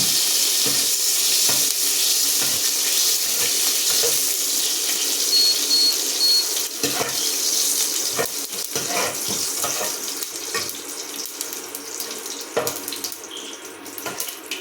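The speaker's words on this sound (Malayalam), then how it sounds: "കടുക് നന്നായി പൊട്ടിയിട്ടുണ്ട്." Mustard seeds, half a teaspoon, sputtering and popping in hot oil for an onion curry, a steady close hiss broken by scattered sharp crackles throughout.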